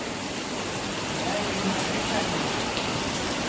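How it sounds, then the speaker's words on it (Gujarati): Steady heavy rain pours outdoors in an evening downpour, a dense continuous hiss throughout with a voice speaking over it. "જો ભાઈ વરસાદ જવતા પડે આ વરસાદ ભાઈ."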